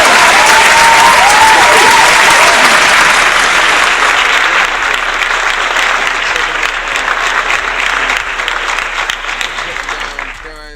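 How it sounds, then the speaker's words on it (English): An indoor audience gives a round of applause, dense loud clapping that carries steadily and then thins and fades out toward the end. "can we get a round of applause for this"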